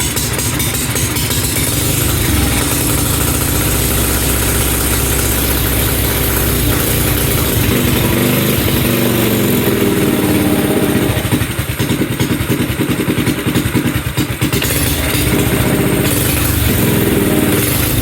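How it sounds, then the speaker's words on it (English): Engine of a blown-engine project running loudly and continuously after start-up, a close, rough mid-pitched idle with shifting revs as the gas and choke are adjusted, no voices over it. "I'm actually going to start it up again and play with the gas and choke thing."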